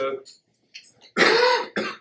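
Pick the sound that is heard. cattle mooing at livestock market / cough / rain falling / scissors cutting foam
cough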